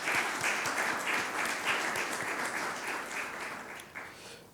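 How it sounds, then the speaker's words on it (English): Audience applause welcoming distinguished speakers to a panel at an HR roundtable at BIMTECH, a dense, even wash of clapping that holds steady for several seconds before gradually tapering. "request you to welcome them with a big applause"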